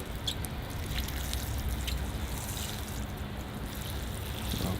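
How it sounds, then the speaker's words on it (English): Water pouring steadily over a bonsai ficus tree and its soil, a constant close trickling splash with no pauses. "I'm going to give the tree a good thorough watering"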